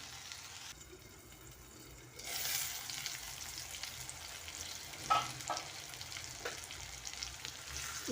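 Okra and tomato stir-fry (bendakaya vepudu) sizzles steadily in a pan, with a soft continuous frying hiss that swells when stirred, plus a few light clinks of a utensil, close up with no talking.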